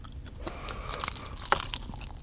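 Someone bites into crunchy fried chicken from Nesto Friend Chicken, producing faint, close crunching and chewing with a couple of sharper crackles and no talk.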